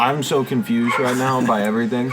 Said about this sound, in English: why is there a dog barking here?